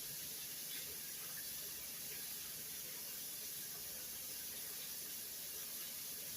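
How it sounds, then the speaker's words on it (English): Cold tap water runs over chopped kale in a sink, a faint, steady hiss and spray that carries on evenly throughout without any talk. "Now I'm going to rinse it under cold water."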